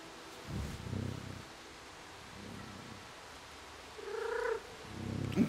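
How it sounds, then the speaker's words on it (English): A cat in the video game Stray gives a few soft, faint meows and purrs amid quiet ambient game noise, spaced out with gentle rustling between. "Oh, the meowing is just so adorable."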